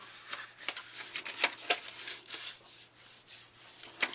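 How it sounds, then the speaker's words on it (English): Paper for a Father's Day gift bag being folded along score lines, soft close rubbing and crisp crinkling creases in irregular bursts, quiet and without speech. "we're going to go ahead and fold along those score lines"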